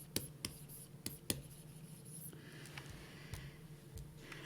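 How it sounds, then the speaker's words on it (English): A pen scratches out chemistry calculations on paper by hand, with faint, close strokes and a few sharper taps, quiet and with no talking. "I will write that over here."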